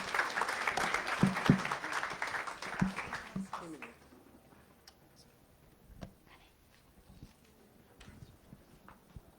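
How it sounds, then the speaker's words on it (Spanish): Audience at a Spain–Peru sustainable development seminar claps to welcome a speaker, moderate applause for a few seconds that dies away into a quiet room with small handling knocks. "Y le recibimos con un fuerte aplauso a Janet Yaja."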